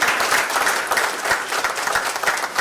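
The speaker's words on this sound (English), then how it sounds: "come on ladies and gentlemen, another round of applause one more time" Dense applause from a conference audience, many hands clapping at once, loud and sustained without a break.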